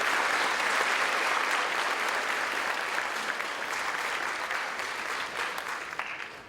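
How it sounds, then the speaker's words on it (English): Applause rises from an audience at a 9/11 high school ceremony in honour of the clergy, a full, steady wash of many hands clapping that holds for several seconds and tapers slightly toward the end. "so let's give them a round of applause"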